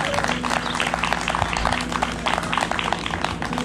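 A crowd claps through a bass fishing seminar at Lake Fork, a continuous, fairly loud patter of many hands over a low steady hum, with no speech on top.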